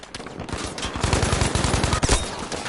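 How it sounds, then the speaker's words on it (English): Rapid automatic gunfire in Battlefield V multiplayer combat near a bridge, with loud, closely spaced shots in quick bursts that crackle continuously over the whole stretch, without voices. "Gunfire is coming from all over."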